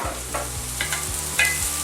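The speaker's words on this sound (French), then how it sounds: "Le lardon commence à griller. Je vais y mettre les carottes." Bacon lardons fry in a pan as carrots are tipped in, giving soft sizzling under repeated scraping stirs and light clatter, close by with no talk.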